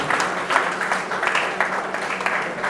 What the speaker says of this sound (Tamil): பெரிய கரகோஷத்தோட